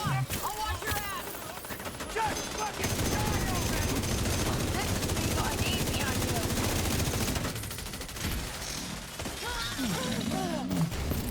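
Rapid bursts of enemy gunfire in a video game crackle densely through much of the stretch, loud and continuous with shifting intensity, while a voice talks over the action.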